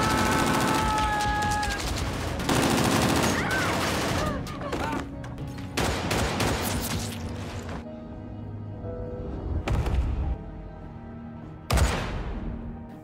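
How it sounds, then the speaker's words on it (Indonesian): Loud, dense gunfire from a movie shootout between the hero and kidnappers, rapid bursts and single shots crowding together with heavy thuds, dropping to scattered louder blasts toward the end. "Lalu terjadilah baku tembak antara Saul dan para penculik."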